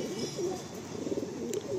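A loft pigeon cooing nearby, soft low rolling coos repeating over a steady background hiss, with no speech.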